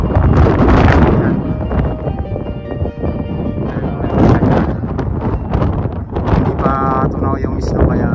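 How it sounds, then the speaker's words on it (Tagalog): Strong wind buffeting a microphone outdoors in snowy, thawing Canadian surroundings, loud gusty roaring and rumbling that rises and falls in waves, with a person talking over it. "Mahangin. Para rin tayong tatangayin."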